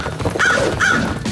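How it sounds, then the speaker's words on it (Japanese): Two crow caws in a children's animated show, loud and close, separated by a short pause within about a second. "あのカラスを追って"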